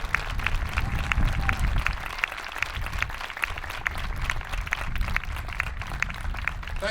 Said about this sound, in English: Please give a wonderful round of applause for Mrs. Sylvia Brugger.